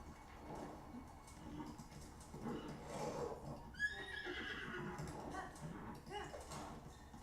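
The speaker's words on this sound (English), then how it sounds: "Horses get spooked by just straight up trash in the middle of the road." A horse in Zelda Breath of the Wild lets out a single whinny near the middle of the clip, its descending harmonic cry rising above a steady bed of in-game ambience and music.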